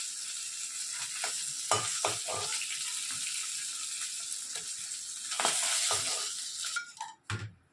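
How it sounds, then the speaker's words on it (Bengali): Rui fish fries in shallow oil in a pan, giving a continuous sizzle broken by scraping and clattering spatula strokes, with a sharper burst near the end as pieces are lifted out. "এই মাছগুলো ভাজা হয়ে গেছে"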